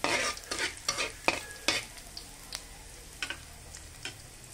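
Seasoning sautéing in a pan until brownish, a soft steady sizzle with repeated stirring clicks and scrapes close by, fairly quiet and without speech.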